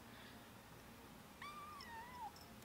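A cat gives one soft, drawn-out meow with a rising then falling tone, faint and fairly close in a quiet room.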